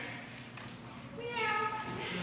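A person's voice imitates a cat's meow with a short, drawn-out, rising tone over a quiet room hum.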